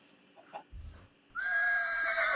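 A horse in Minecraft lets out a loud, drawn-out whinny that starts abruptly after a few soft thumps and quiet moments, ringing close and clear to the end.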